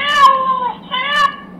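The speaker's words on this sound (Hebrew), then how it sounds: "בוא נשמע עוד הפעם איך הוא מיילל" A talking educational toy plays a recorded cat meow, two clear, drawn-out electronic meows back to back, loud and close with no talking over them.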